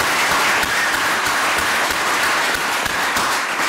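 Conference audience claps in a steady, dense round of applause, loud and close, sustained for several seconds without any talk.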